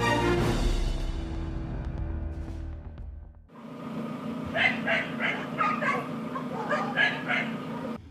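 Stray dogs on open ground near Chernobyl: heavy close barking at first, then after a brief pause a pack of dogs barks and yips in overlapping bursts, some sounding farther off.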